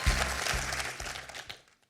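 Quiz show contestants clap briefly for a fellow player on Questions pour un Champion, a short burst of applause with a few low thumps that fades out within two seconds.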